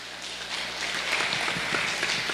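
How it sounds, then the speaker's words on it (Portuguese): A church congregation applauds, producing dense, continuous clapping that fills the room evenly at a steady moderate level for the whole stretch, with no voices standing out. "Você pode aplaudir ao Senhor?"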